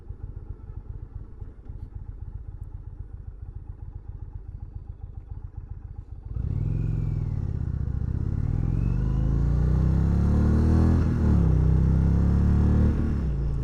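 An Indian Roadmaster Dark Horse motorcycle ticks over with a lumpy idle, then its engine swells into a loud, steady roar as the bike pulls away and cruises, rising and dipping slightly in pitch.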